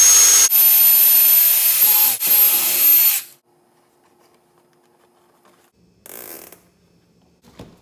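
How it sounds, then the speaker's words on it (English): A power drill bores holes through a broken plastic air box part on a 2002 Arctic Cat 300 ATV, a loud continuous whir for about three seconds with a brief dip, then quiet and a short second burst. "this piece right here is also broken, so I'm gonna drill some holes here"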